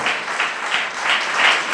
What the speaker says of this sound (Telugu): గట్టిగా చప్పట్లు కొట్టండి, గట్టిగా